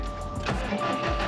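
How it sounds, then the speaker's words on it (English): A 2020 Subaru WRX STI is started in neutral with the clutch pressed: a brief crank, then the engine catches and its exhaust settles into a steady, close, rumbling idle, with no talking. "Really awesome sounding exhaust that this car has."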